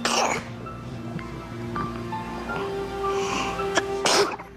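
A single loud sneeze bursts out near the start, then a second sharp sneeze or throat-clearing burst near the end, set in a quiet room during a Boston Celtics behind-the-scenes interview, with faint background tones between.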